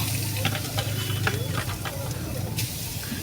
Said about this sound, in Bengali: কড়াইটা একটু গরম হলে আমি নারকেলটা ভাজবো